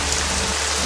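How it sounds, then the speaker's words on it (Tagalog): Heavy rain pours down in a dense, steady hiss across a brief moment, loud and close with no voices, like a rainstorm in a radio drama. "Ang lakas ng ulan."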